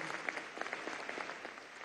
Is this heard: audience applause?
yes